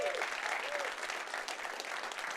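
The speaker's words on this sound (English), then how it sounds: "Applause for them." A keynote audience at the Synthesize 2017 tech conference gives a soft, steady wash of applause, heard at a distance in a large hall.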